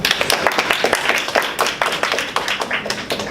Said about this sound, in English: Let's give another round of applause to all the speakers